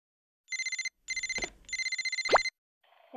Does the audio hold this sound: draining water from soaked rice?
no